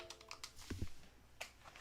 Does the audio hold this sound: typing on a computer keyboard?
yes